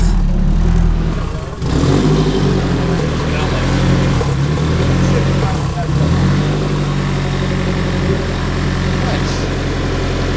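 A Volkswagen car engine idles with a steady, low, even rumble, close and loud throughout.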